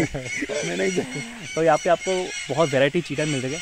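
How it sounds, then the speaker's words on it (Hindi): Loud, raucous parrot calls, small and large breeds at a parrot village in Chandubi, ring out as a rapid series of harsh honking squawks in several bursts, with someone speaking over them. "ये आवाज़ सुन रहे हो आप, ये तोते का है, बहुत रेयर है।"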